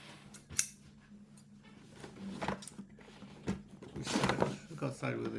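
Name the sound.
cutting open a model kit box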